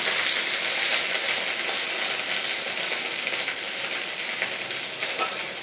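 Ginger paste fries in a pan with chili, cooking for a vegetarian banana-flower ghonto, giving a steady, close, hissing sizzle that holds evenly throughout with no talk.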